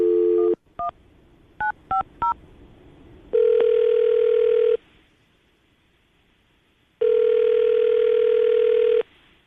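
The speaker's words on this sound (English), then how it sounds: "we're going to give her a call right now" A telephone call goes out from a morning radio show: a quick series of keypad dialing tones, then two long, even ringing tones separated by a pause, clear and close with no talking.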